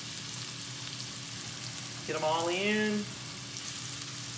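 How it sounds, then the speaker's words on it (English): Onions sizzle in a hot pan while fried cauliflower rice is being cooked, giving a steady close hiss throughout, with someone briefly speaking over it partway through. "You want that sizzle, baby."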